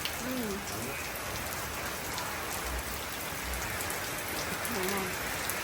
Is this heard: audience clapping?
no